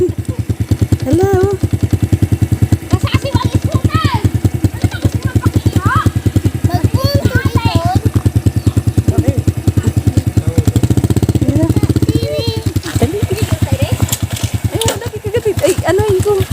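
Motorcycle engine running steadily and loudly nearby near a waterfall, a continuous low rumble throughout with people talking and laughing over it.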